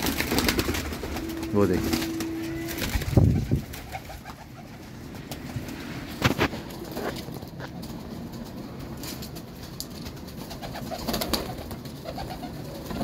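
Pigeons, a flock of net-kept birds in a loft, coo softly and repeatedly through a busy, noisy background while someone talks over them.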